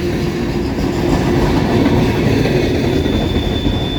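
A CSX manifest freight train, carrying old New York Central maintenance-of-way cars and C&O gondolas, rolls past close by with a loud, continuous rumble and rhythmic wheel clatter on the rails, plus a faint high squeal toward the end.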